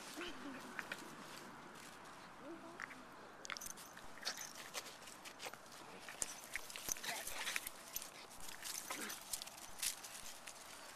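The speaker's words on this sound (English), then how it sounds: "I'm recording the puppies." Puppies play together in a rapid scuffle of claws, light thumps, mouthing and small grunts, close and busy throughout with irregular bursts of activity.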